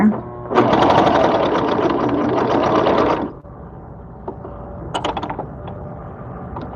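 A sewing machine stitches steadily over a hem for about three seconds, loud and close with a dense mechanical whir, then stops, leaving faint room noise and a few light clicks.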